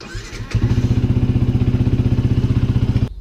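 A Yamaha MT 125 motorcycle, sitting in neutral, cranks and fires up within half a second, then settles into a loud, close, evenly pulsing idle that runs steadily until it cuts off.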